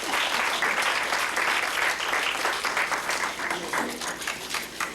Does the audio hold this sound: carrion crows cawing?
no